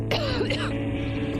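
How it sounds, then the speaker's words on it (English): A character in the video game Metro Exodus gives a single rough cough that trails into throat clearing. It is heard over a low, steady game ambience. "That cough is getting worse."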